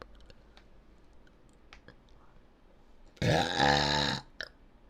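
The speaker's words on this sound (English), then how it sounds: "I need a burp" After a few soft clicks, one loud, throaty burp rumbles for about a second, followed by a small click.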